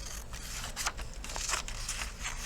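Scissors cutting paper along a drawn line for an elementary-school shark collage, with a few close, crisp snips and rustles over a steady background hiss and no voices.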